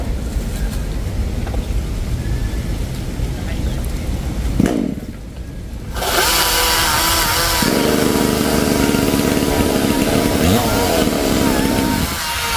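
A chainsaw cuts down an old lychee tree more than twenty years old, its engine roaring loud and close, briefly dropping off before revving hard again through the cut while voices talk over it.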